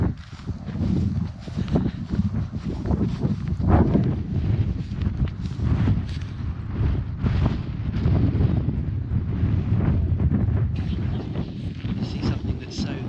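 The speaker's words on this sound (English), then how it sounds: "if the wind wasn't blowing a hoolie at this point" Strong wind on the exposed island of South Uist in the Outer Hebrides buffets the microphone as a loud, steady low roar with gusty surges throughout.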